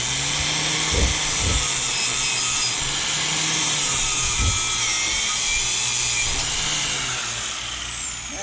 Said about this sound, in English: I'm going to get a wire brush on an angle grinder and just kind of go in there